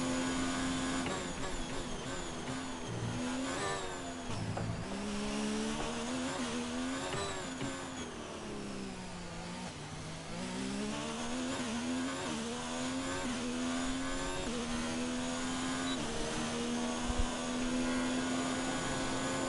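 A Formula 1 race car engine in a video game screams at high revs, pitch climbing through gears and dipping under braking into corners, continuous and loud for the whole stretch with no talk.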